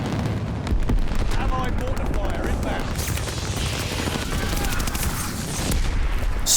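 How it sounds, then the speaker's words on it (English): A V2 rocket strike in the video game Call of Duty Vanguard sets off loud, rolling explosions and bursts of gunfire that run without pause, mixed with a player's voice talking over the action. "I think I'm just gonna call on this V2 rocket."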